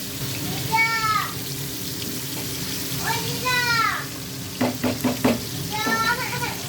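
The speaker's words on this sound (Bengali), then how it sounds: "লাল লাল করে মাছগুলোকে একটু ভালো করে ভেজে নেবেন।" Tangra fish frying in oil in a pan, giving a steady crackling sizzle with squeaky chirping calls rising over it and a short burst of knocks near the end.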